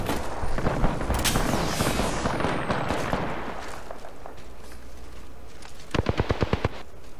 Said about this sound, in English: Firing. I'm taking shots.